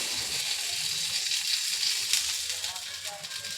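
Ghavan batter sizzles on a hot tava griddle with oil, a steady bright hiss and crackle close up, while a voice talks quietly underneath.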